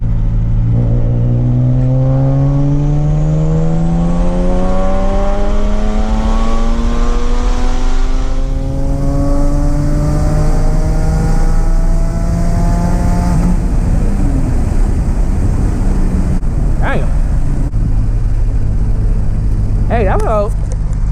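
A turbocharged Nissan 370Z running E85 fuel accelerates hard through a gear pull, engine note rising steadily in pitch over repeated sweeps, loud and close from inside the car, with turbo whoosh and shift breaks near the end.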